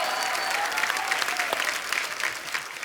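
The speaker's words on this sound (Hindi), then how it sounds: "इन तीनों फनकारों के लिए जोरदार तालियां।" Brief burst of studio audience clapping on The Kapil Sharma comedy show, fairly dense and steady, with faint background voices and a short tonal note early on.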